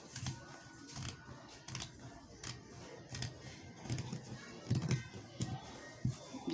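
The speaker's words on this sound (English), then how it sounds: "Then you take your scissors" Scissors snip repeatedly through fabric while cutting out a shirt collar, a series of quiet, crisp cuts at an irregular rhythm, close by with faint room noise.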